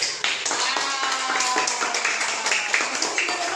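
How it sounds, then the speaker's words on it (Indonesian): Students in a classroom give a brief burst of applause, quick overlapping claps and taps over a few seconds, with some voices mixed in. "Beri tepuk tangan dulu."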